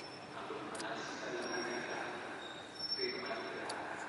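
Train station platform with trains moving nearby: low rolling rumble and faint wheel squeal, with scattered background voices and station noise throughout.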